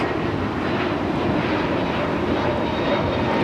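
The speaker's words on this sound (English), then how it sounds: "Taking off to JFK. JetBlue 324. That was your flight. The A321neo." A JetBlue Airbus A321neo jet takes off at LAX bound for JFK, a broad steady roar of jet engines heard from a distance and holding at a constant loudness throughout.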